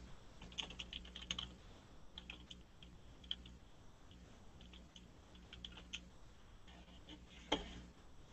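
Typing on a computer keyboard: irregular bursts of soft key clicks close by, with a few louder taps and pauses between runs, in a quiet room.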